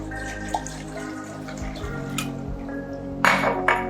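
Water pours into a container in a kitchen, a quiet running splash that swells into brief louder gushes near the end, over a steady low hum, with no speech.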